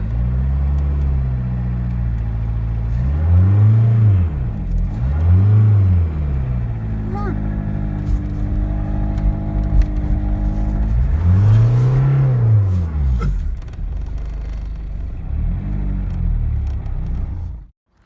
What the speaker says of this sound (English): give it a bit more gas and let's go.